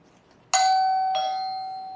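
A Wyze Doorbell Pro indoor chime rings out clearly after a short silence, with two bright ringing tones in quick succession, the second overlapping the first and fading slowly.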